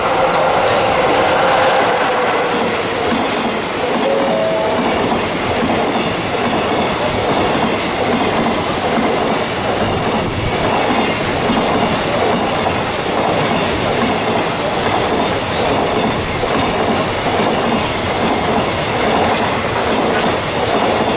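An EF66 electric locomotive hauls freight train 5073 past at close range, a loud continuous roar of rumbling wagons and rhythmic clickety-clack wheels that lasts throughout.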